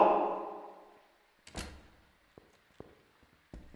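A door slides and thuds shut, followed by a few lighter knocks and clunks spread over a few seconds, heard after a fading tonal sound with no speech.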